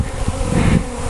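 Honey bees fill a crowded hive with a dense, continuous buzzing drone, loud and close, as a colony prepares to swarm.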